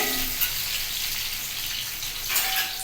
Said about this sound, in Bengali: আমি কড়াইটাকে এটাতে ডালটা ফুটাচ্ছি